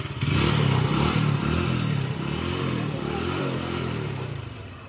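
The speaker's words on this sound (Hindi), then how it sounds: "मैं बाइक को स्टार्ट करने की कोशिश कर रहा हूँ" Motorcycle engine being started and running close by, a steady mid-pitched rumble with clattering mechanical texture that holds for several seconds, slowly easing off toward the end.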